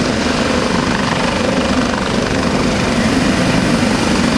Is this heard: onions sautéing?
no